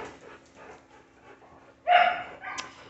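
Dogs at a kennel pant and whimper softly up close, then one gives a sudden loud bark followed by a shorter yip.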